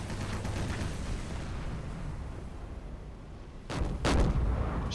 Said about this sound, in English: Shells whizzing over our heads.